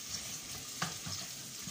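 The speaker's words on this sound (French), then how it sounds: "sauter les oignons que ça puisse cuire" Onions sautéing in a pan while being cooked for a dried-caterpillar (mbinzo) dish, a steady soft sizzle with a brief clink or stir near the middle, close and moderately quiet.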